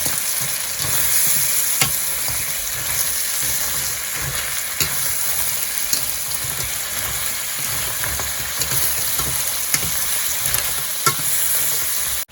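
Black pepper crab being stir-fried in a pan, a steady loud sizzle with scraping stir strokes and occasional sharp clicks of a utensil throughout, no voices.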